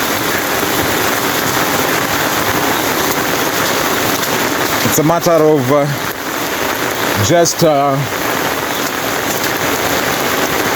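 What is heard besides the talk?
heavy rain falling in Mombasa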